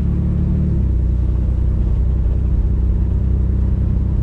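A 1954 Chevy Bel Air with an upgraded 235 six-cylinder and dual carburetors cruises along, its engine a steady, loud low rumble with road noise, no voices.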